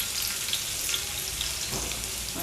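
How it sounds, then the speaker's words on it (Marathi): Garlic sizzling in hot oil in a pan for a Malvani-style halwa fish fry, a steady soft hiss with faint crackles and no voices. "आपण आता सगळ्यामध्ये तेल घेतलं आहे थोडीशी अशी वर लसूण घालून घ्यायची"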